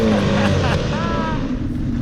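A BMW F850GS Adventure (2019) motorcycle rides a gravel road in Enduro Pro mode, its engine a loud, steady drone close by, with the rear wheel sliding, while a rider talks over it.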